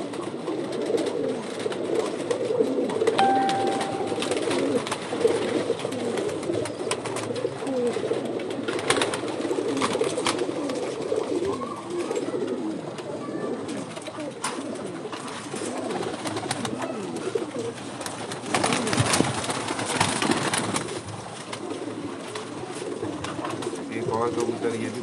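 Pigeons coo in soft repeated calls through a long stretch, with someone talking over them at times.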